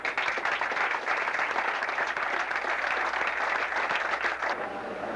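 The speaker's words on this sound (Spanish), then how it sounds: "Yo quiero que un fuerte aplauso para ellos" A crowd at a graduation ceremony applauding steadily for about five seconds, dense continuous clapping that fades slightly at the end, with no talk over it.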